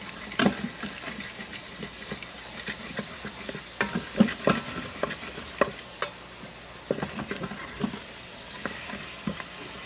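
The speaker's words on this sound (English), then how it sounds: "I want to try and scrape up that brown bits off the bottom." A utensil scrapes browned bits off the bottom of an Instant Pot where Vidalia onions are frying, giving irregular scraping and stirring bursts over a soft, constant sizzle with no talking.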